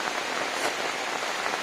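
Steady monsoon rain falls on a village garden plantation in coastal Karnataka, a dense, even hiss of drops that holds without a break and carries no voices.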